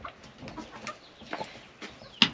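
A hen in a backyard coop gives a few short clucks and squawks, fairly close, ending in one sharper louder call, with faint background noise and no talk.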